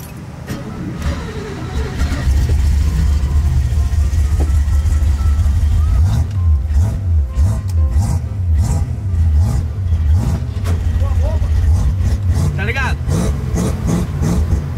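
A Ford Maverick's engine runs with a deep, rough rumble out on the street, revving repeatedly in rising and falling surges, loud and close, while people talk nearby.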